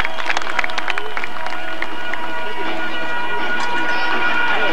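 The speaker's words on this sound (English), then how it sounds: "I think a round of applause might be in order just the same." A rodeo crowd at a bull riding event applauds and cheers, a loud, continuous roar of clapping and voices with an announcer speaking over it.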